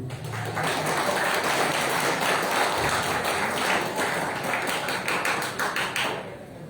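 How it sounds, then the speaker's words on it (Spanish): Applause from an audience in a room, a steady dense wash of clapping hands that holds for several seconds, then thins out and fades near the end, with no voices over it. "Un aplauso, Pedro."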